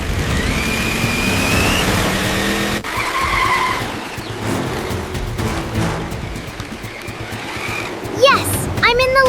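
A black toy police RC car races and skids, its tires squealing in repeated sharp bursts over a steady motor whine. Excited voices carry on throughout, ending in a cluster of high screeches.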